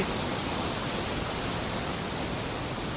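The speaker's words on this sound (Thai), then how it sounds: "น้ำตกลีผีที่เรืองลือครับในตำนานเนี่ย โอ้ เป็นสายน้ำตกใหญ่ยาวขวงขวง" Li Phi waterfall at Don Khon in southern Laos, a broad, continuous rushing roar of falling water, steady and loud throughout with no voices.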